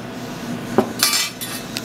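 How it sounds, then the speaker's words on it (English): A metal whisk clinks against a pot while egg mixture for eggnog is whisked, a few sharp scrapes and taps at an uneven pace, close and fairly quiet with no talking. "I'm going to put my egg mixture in here very slowly while I'm whisking it."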